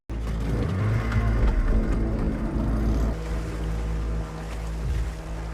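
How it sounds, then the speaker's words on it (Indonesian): A small motorized lifeboat runs across open sea toward a ship, its engine drone steady and close beneath washing water, shifting slightly in pitch partway through. "Hendrik memberikan tugas kepada Sullivan untuk mengecek kapal itu secara langsung menggunakan perahu sekoci."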